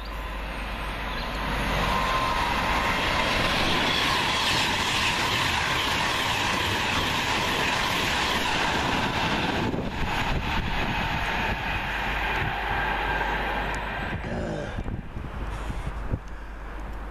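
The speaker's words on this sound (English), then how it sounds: "Next Pendolino down to Euston." A Pendolino train rushes past on the line toward Euston, a loud sustained roar with wheel rumble and wind noise that holds steady for over ten seconds before easing off, close to the track with no voices.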